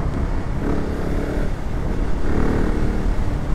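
A KTM 690 Enduro R single-cylinder motorcycle engine accelerates with a loud, continuous drone that swells twice in pitch under rushing wind noise.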